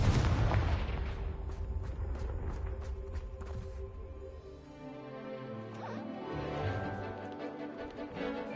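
Confringo blasting spell in the Hogwarts Legacy game, a loud burst at the start trailing into a long rumbling decay with ringing tones.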